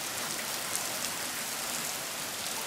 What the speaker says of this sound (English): There's a lot of rain, huh?